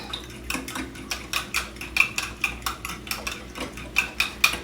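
A utensil scrapes and clinks rhythmically against a bowl while flour mix and beef bouillon are stirred together for oxtails, roughly a dozen quick, close, bright strokes in steady succession.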